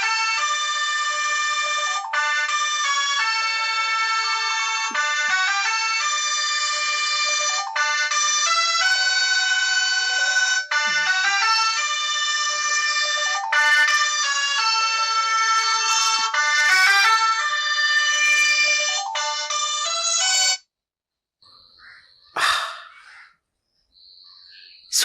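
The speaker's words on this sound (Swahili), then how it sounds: "Simu yako inaita." Mobile phone ringtone playing loud and close, a bright repeating electronic melody that loops for about twenty seconds before stopping abruptly, followed by a brief faint bird-like chirp.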